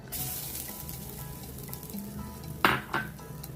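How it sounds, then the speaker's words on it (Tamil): Grated coconut roasting in a pan over a low flame, a soft continuous sizzle broken by two sharp scrapes of a spatula near the end, close and with no talking. "அதை நல்லா வறுத்துக்கணும் ஈரப்பதம் போக அடுப்பை கொஞ்சம் சிம்மில் வச்சுக்கணும்"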